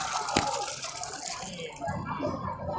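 A handmade hand pump lifts well water that pours and splashes nearby, with a sharp knock early on and faint voices in the background.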